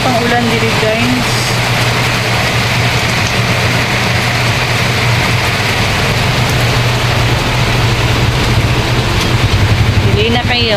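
Heavy rain pours down in Palawan, a loud, unbroken wash of hiss with a low steady hum beneath it and faint voices in the background.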